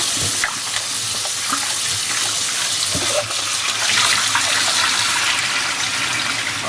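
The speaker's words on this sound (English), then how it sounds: "So now we're going to rinse the fish." Fish rinsed under a running kitchen tap, a steady loud gush of water splashing continuously throughout, with small clatters and shifts as the fish is handled in the stream.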